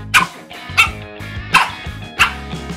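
A dog barks four times in a steady rhythm, each bark loud and close with a short gap between, in a home kitchen setting with no talking over it.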